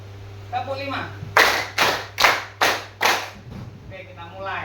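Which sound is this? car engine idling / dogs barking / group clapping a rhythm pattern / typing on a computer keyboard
group clapping a rhythm pattern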